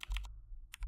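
A few quick keystrokes on a computer keyboard as a command is typed into a Linux terminal, close and faint, with two short clusters of clicks separated by a silent gap.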